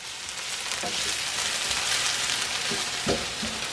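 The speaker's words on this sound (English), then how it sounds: "let this saute up a little bit, then we're going to drop in the garlic" Finely chopped onions sautéing in a pan before garlic is added, giving a steady, close hiss of frying with a few soft utensil knocks, with no voices.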